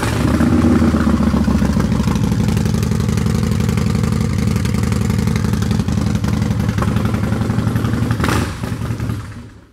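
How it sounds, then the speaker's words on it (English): A 2014 Harley-Davidson Softail Breakout Screamin' Eagle with a 110 cubic inch engine and Vance and Hines drag pipes idles loud and close, its deep, lumpy exhaust burble steady throughout, with a brief blip near the end before it cuts off. "110 cubic inch engine, 6-speed transmission, Vance and Hines drag pipes."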